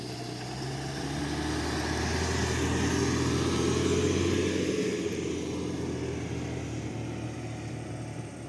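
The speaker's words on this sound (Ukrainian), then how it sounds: "Зараз побачимо автомобіль. Вже чути він їде." A steady engine hum grows slightly louder and then eases, a car moving along a road at a distance in the Carpathian mountains near Yaremche, with no voices.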